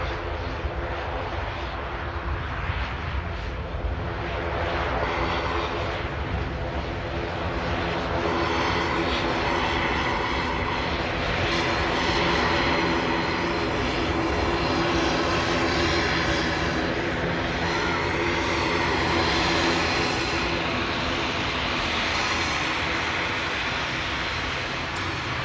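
An Aer Lingus ATR 72 turboprop comes in to land at Manchester Airport with a loud, sustained engine roar that holds steady throughout and has no talking over it.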